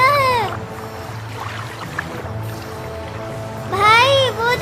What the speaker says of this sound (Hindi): अरे ये बिल्ली की रोने की आवाज कहाँ से आ रही है?